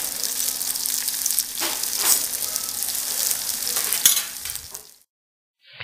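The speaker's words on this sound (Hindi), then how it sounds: "भिंडी को हमें थोड़ा सा तेल में भून लेना है, जब तक कि वो थोड़ा सा सुनहरे कलर की ना हो जाए।" Finely chopped okra fries in hot oil with a dense, steady crackling sizzle and occasional stirring scrapes. The sound holds loud and close for about five seconds, then cuts off to near silence.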